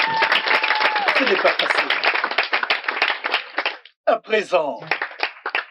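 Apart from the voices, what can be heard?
audience applause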